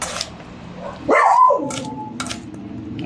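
A dog lets out a sharp bark followed by a short whining yelp, then a couple of quieter clicks and shuffles.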